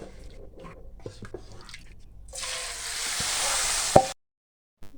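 Hot tadka tempering with deggi mirch for Kashmiri dal, a bright crackling sizzle that bursts up partway through, rises loud and close, then cuts off sharply, with a few utensil knocks and a faint voice before it.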